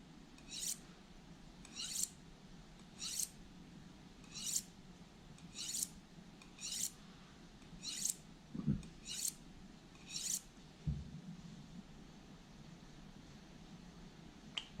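A knife is drawn on a magnetized honing rod to refine its edge. About nine evenly spaced, crisp metallic swipes ring out about a second apart, quiet and close, followed by a couple of soft knocks.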